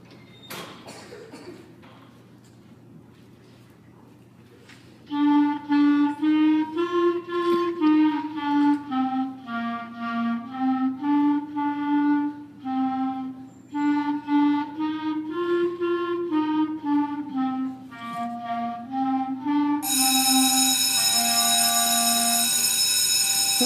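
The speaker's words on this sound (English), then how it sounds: "Next instrument I'm going to demonstrate is the clarinet, and we had 3 clarinets that wanted to play for y'all tonight" Three clarinets play Ode to Joy together at a school band concert, a sustained reedy melody of steady held notes in unison that starts after a quiet pause and runs loudly and continuously to the end.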